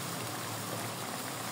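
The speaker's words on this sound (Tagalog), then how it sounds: "Kumukulo-kulo." Tagalog-style pork steak with onions simmers in a pot, giving a close, constant bubbling and hissing boil with no pauses.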